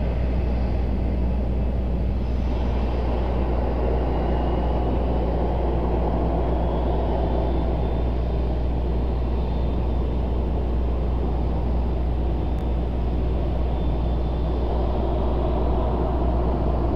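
Airliners at Raleigh-Durham airport produce a steady, loud jet rumble as they taxi and head out for departure, a continuous roar with a faint rising whine and no voices.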